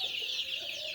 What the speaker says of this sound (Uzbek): Mana shu yerga 152 ta jo'jamiz chopqillashib yuribdi